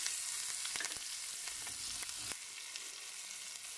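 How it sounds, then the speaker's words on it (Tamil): Minced ginger and chopped green chili sizzle steadily in hot oil with curry leaves and asafoetida, a continuous close frying hiss with faint stirring clicks throughout. "இந்த இஞ்சியும் பச்சை மிளகாவும் ஒரு ஒரு நிமிஷம் வதங்கட்டும்."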